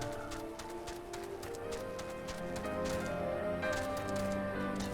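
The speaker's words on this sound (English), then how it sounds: "it's a water horse." Rhythmic hoofbeats from a water horse mount in the video game Final Fantasy 14, a steady clip-clop running continuously over layered game music and ambient tones, with no talk.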